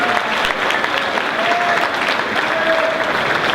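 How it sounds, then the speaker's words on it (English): Audience applause for a chorus at a school military opportunities day program, steady and sustained clapping from a large crowd with a few cheers, filling the room throughout. "How about another round of applause for our chorus?"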